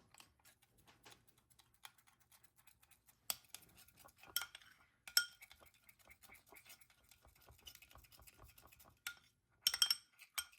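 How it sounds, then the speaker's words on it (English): Spoon stirring flour and other ingredients for no-knead bread in a bowl, uneven scraping and clinking strokes in close bursts, some louder clatters scattered through, with no talk. "we'll mix again just so it's already incorporated as much as possible"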